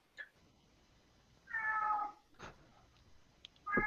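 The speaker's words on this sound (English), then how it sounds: "The cat in the background." A cat meows in the background of a home office, with a short chirp, a longer drawn-out meow in the middle, and another rising meow at the end, fairly faint and with no talking.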